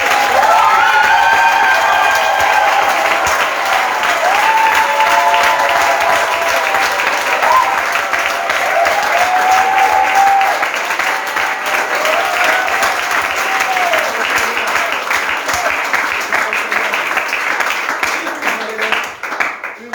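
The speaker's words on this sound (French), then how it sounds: "Acclamons notre Dieu." A church congregation at a divine-healing service bursts into sustained loud applause and cheering to acclaim God, dense clapping filling the room for about twenty seconds, with raised voices mixed in before it thins toward the end.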